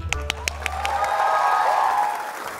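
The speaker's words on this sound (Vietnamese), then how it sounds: "Trước khi hát vỗ tay nghe được không?" A studio audience on a Vietnamese comedy show claps before a song, a few sharp, distinct claps at the start giving way to a blended wash of applause, while a sustained tone and voices sit underneath.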